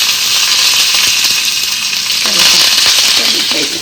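Dry red chillies fry in a pan with a steady, bright sizzle throughout, small crackles and pops rising slightly toward the end.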